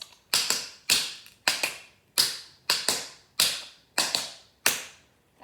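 Tap shoes rap out shuffle steps on a hard floor in a tap dance class, sharp metallic clicks falling in uneven pairs and singles with small gaps between groups, close and clear, with no voices.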